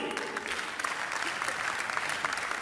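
Steady applause from a mushaira audience in Qatar greeting Urdu poet Abbas Tabish, a dense wash of hand claps filling the hall at even loudness throughout.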